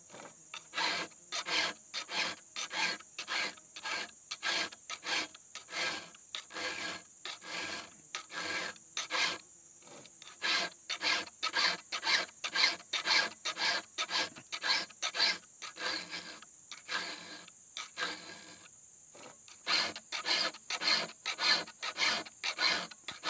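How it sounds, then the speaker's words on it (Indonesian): A hand file sharpens the cutters of a chainsaw chain in close, rhythmic rasping strokes, grouped in runs with short pauses between, with no talking. "dorongan kikir harus diputar"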